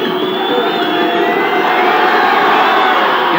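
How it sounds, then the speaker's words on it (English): Rugby league crowd at a 1985 Hull FC versus New Zealand match jeering a goal kicker lining up a kick from near the corner; steady, dense crowd roar and jeers sustained throughout, loud and unbroken with no clear talk. "Getting a hard time from the crowd."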